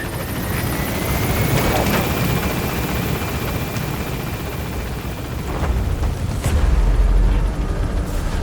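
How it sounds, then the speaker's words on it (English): A helicopter in Metal Gear Solid V: The Phantom Pain arrives for an extraction, its loud, close rotor drone running steadily with a few sharp thumps and a heavy rumbling swell near the end. "Get on the chopper."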